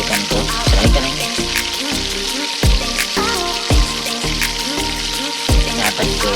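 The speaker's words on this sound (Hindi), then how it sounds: "हम फ्राइड पैन के अंदर जो है चिकन को फ्राई करेंगे" Chicken fries in a pan with a loud, dense sizzle, and a utensil scrapes or knocks rhythmically at roughly half-second intervals. No one speaks.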